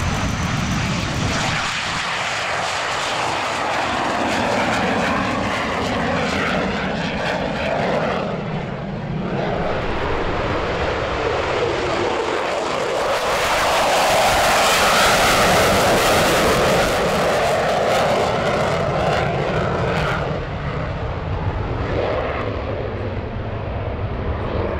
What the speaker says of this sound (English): First up, the sole airworthy FJ-4 Fury joins an EA-18G